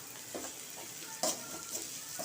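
Curry leaves, onions and green chilies sauté in a pan for goat blood fry, sizzling softly with quick stirring scrapes and a sharper clatter midway, close and fairly quiet.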